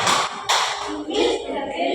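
A classroom group claps together in a concentration routine, sharp bursts of many hands landing under children's voices, close and fairly loud.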